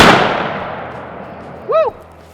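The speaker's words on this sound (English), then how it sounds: "Okay, round chambered. We're hot. Firing." A .308 rifle round fired into a septic pump outdoors: one loud, sharp gunshot at the start whose echo decays over about a second and a half, followed by a brief metallic ring.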